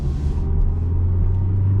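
A 2017 Mazda CX-3 GX with a four-cylinder engine gives a steady low rumble while driving, heard from inside the cabin as a continuous, fairly loud drone.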